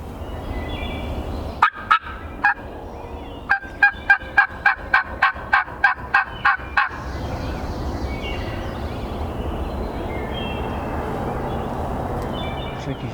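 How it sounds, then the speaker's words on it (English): Two rattling wild turkey gobbles ring out from a distance in a Pennsylvania woodland bottom, a short burst followed by a longer run of rapid, throaty notes, then quiet outdoor ambience. "we just heard a bird gobbling down off in this bottom"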